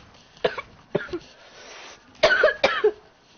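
Several sharp, close coughs in two bursts, a couple at first and then a quicker cluster after a short pause.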